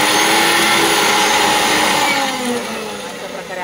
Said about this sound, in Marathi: सॉरी हा, तुम्हाला मिक्सरच्या आवाजाने डिस्टर्ब झालं असेल तर